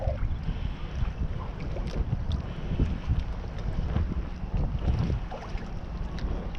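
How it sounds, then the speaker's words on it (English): Wind blows across the microphone on a fishing dock over water, a constant rough rumble with irregular gusts and faint splashes and knocks throughout, and no one speaks. "See how that wind pushed that line under the dock?"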